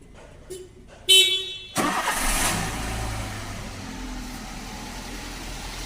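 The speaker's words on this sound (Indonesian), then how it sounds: "Pertama kita nyalakan mesin terlebih dahulu." A car horn sounds briefly, then an engine cranks and catches and settles into a steady idle close by, in a workshop with the car on a lift during periodic servicing.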